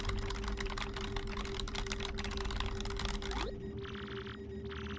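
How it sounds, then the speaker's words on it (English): Keyboard typing in Paper Mario: The Thousand-Year Door, a rapid, continuous patter of game key clicks over a steady hum, cutting off and followed by brief electronic beeping tones. "Use the keyboard in front of you."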